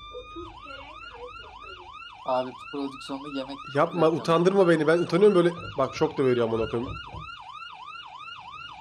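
A wailing ambulance siren sweeps up and down steadily throughout, loud and close, while several people talk and laugh over it in the middle.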